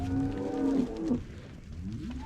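A lean farm cow moos loudly and close by, one drawn-out low call that bends in pitch and fades, followed by a quieter second lowing call.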